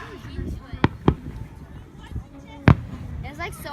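Fireworks go off outdoors with a few sharp, separate bangs, close and loud, while people talk and react between the blasts.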